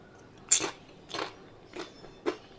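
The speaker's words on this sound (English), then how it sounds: "Let's hear the crunchy sound." Thin, crisp wafer-style homemade potato chips crunch in four sharp bites, spaced about half a second apart, close and clear against a quiet background.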